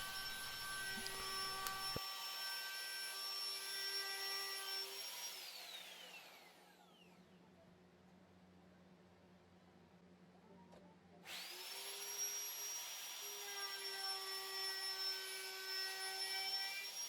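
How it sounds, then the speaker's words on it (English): A woodworking router fitted with a half-inch bit cuts grooves into wooden side panels for a hanging bassinet, giving a loud, steady high whine that cuts out midway for a quieter pause, then spins back up and runs on. "I took a half-inch router bit to match the thickness of the material, cut grooves in both of the sides"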